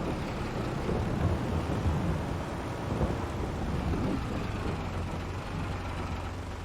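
Steady rain with low thunder rumbling through it in Farming Simulator 22 on the Silverrun Forest map, a continuous dense wash of weather noise with no talking.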